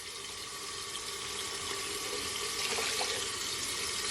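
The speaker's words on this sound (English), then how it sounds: "I'm gonna add at least 2 cups of hot water to it" Hot water runs steadily from a tap into a bowl in a kitchen for a Jamaican brown stew turkey neck, a continuous close hiss and splash with no talking.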